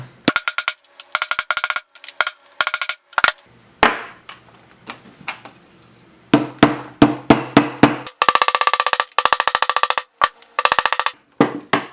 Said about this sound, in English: Try to get it set as much as you can with this tool, and then you finish it with the round part of the ball peen.